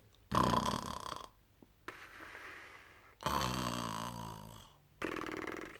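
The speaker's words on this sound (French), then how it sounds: "il ronfle, il dort comme un gros bonbon bébé" A man asleep outdoors on the edge of a grassy bank snores loudly and close by in three or four long, rasping, drawn-out breaths with short pauses between them.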